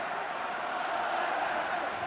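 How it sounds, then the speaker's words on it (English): Rugby crowd at the 2015 World Cup pool match between Ireland and Italy, a dense steady roar of many voices chanting and cheering for Ireland, broad and continuous with no break. "Cries of Ireland from the crowd"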